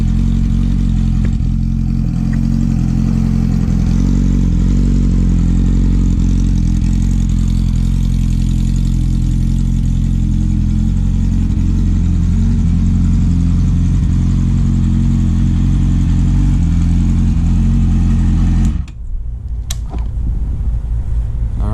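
A loud 2014 R6 sport motorcycle idles with a deep, throaty rumble from a cut factory exhaust with the mid-pipe deleted, steady for a long stretch before abruptly dropping off near the end.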